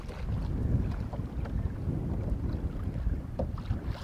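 Wind buffets the microphone at an exposed waterside fishing spot, a constant rough rumbling roar with gusty swells and no other sound.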